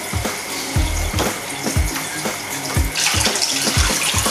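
Water running through a hose into a home aquarium: a steady splashing gush with gurgling pulses and bubbling, close up and continuous, growing slightly louder and brighter toward the end.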